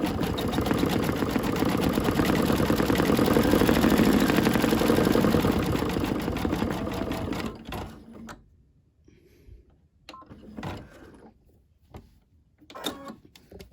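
An embroidery machine stitching a turkey's beak on a mug rug, a dense rapid mechanical whirring and clatter that runs steadily for several seconds, then stops and gives way to short bursts of handling noise and brief fragments of movement.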